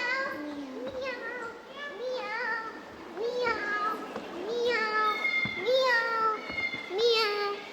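A voice repeatedly imitates a cat's meow during a stage production, several drawn-out meows in a row, close and clear.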